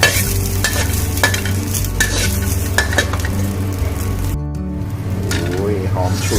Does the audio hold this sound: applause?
no